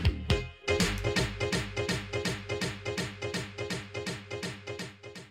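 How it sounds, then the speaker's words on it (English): Rhythmic repeating hits from a long triplet delay effect in an Ableton template echo steadily through the whole passage, each pulse decaying into the next in an even triplet-feel pattern, no speech. "There's a triplet delay, a long triplet delay too."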